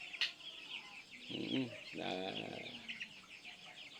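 Chickens cluck softly in a couple of short bursts, with faint bird chirps and a sharp click in the background.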